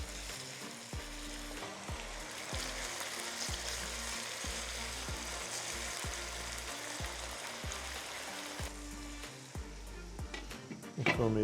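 Chicken frying in a pan with ginger and garlic for a degi-style shahi korma, a continuous close sizzle with regular scraping stirs throughout and a louder clatter at the end.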